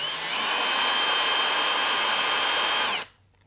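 A power drill grinds away at a KSGER T12 soldering station panel, whining continuously at high speed, close and loud, then stops abruptly near the end.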